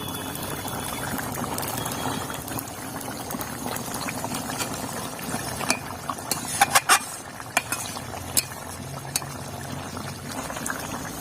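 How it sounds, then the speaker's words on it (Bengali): Fried spice paste goes into a simmering fish and kohlrabi broth and is stirred in, giving soft bubbling with a few clinks and scrapes of a spoon against the pot partway through. "এবার আমি ভাজা মশলাটা দিয়ে দেবো।"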